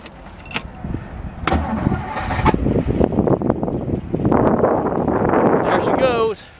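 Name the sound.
1957 Ford Thunderbird 312 engine starting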